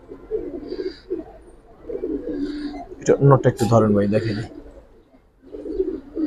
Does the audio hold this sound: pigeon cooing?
yes